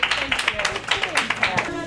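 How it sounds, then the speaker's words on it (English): An audience at a Hampton City Schools board award event claps in a quick, continuous patter that holds steady for the whole short stretch, with voices talking over it. "Let's have another round of applause for our high five from the board."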